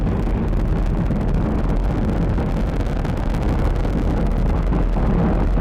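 A deep, continuous roar from the nine Merlin first-stage engines of a SpaceX Falcon 9 rocket at launch fills the air, a steady broadband rumble heavy in the low end that never lets up.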